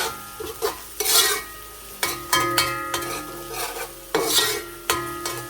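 Curry leaves stirred into a sizzling pot for Trini curry chicken, with loud metal spoon strikes and scrapes against the pot at irregular intervals over a constant frying hiss, close up and without talking.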